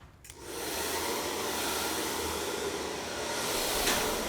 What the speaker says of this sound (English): Come in with a hairdryer, heat that up.